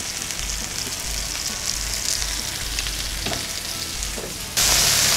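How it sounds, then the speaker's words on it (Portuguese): Beef for a Brazilian pot roast browning in a hot pan, a steady close sizzle and crackle of frying with a brief stir, then a louder hiss near the end, no talking. "Vamos fazer esse trabalho com toda a carne, dourando de todos os lados."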